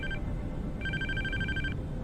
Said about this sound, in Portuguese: o telefone do Leão da Alfândega tocou